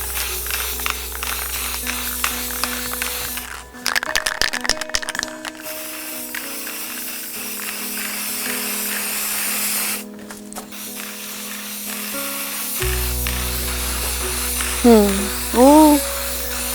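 Aerosol spray paint hissing onto a glass bottle for a craft project: short and longer bursts of steady hiss, some broken by pauses, close and moderately loud over a background of music with a voice talking.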